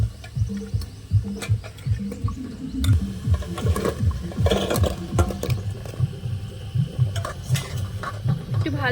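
A utensil scrapes and stirs fried semolina sweets through melted sugar syrup in a pan, making a steady rhythmic series of soft knocks and sloshing strokes close by with no talking.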